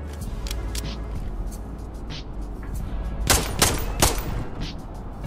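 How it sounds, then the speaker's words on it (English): Automated turret gunfire in the video game Level Zero Extraction, sharp bursts of shots cracking out irregularly over a low rumbling background, a few louder blasts clustered near the end. "Take cover, bro. It's a god turret."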